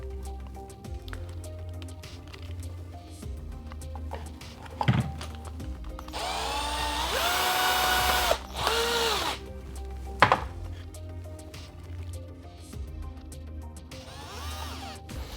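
Screws being driven into a plastic body-shell mount on an RLAARLO AM-X12 RC car, heard as close mechanical whirring and ratcheting bursts with a few sharp clicks and knocks, no talk.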